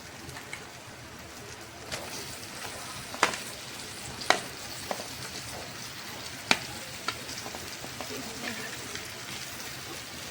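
Cut potatoes for Gujarati suki bhaji added to a tomato mixture in a pan: a soft, steady sizzle with a few sharp clinks and taps from a spoon against the pan, fairly quiet, with no talking.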